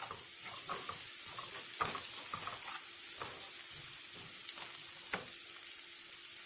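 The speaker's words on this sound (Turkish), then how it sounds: "içerisine şöyle sarımsaklarını attım. Karıştıralım." Garlic fries in a pan with a continuous hissing sizzle, broken by faint scraping knocks as it is stirred. No one speaks.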